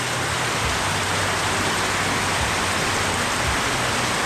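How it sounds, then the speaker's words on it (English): Heavy tropical downpour in Naga City, Philippines, a dense steady roar of rain hissing continuously and loudly with no pauses. "We're having a bit of a downpour yet again, bit of a tropical storm"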